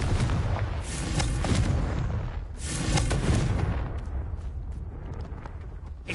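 The Confringo fire spell bursts in Hogwarts Legacy with a roaring, explosive blast, then a second boom. Both rumble loudly and fade into a fizzling tail.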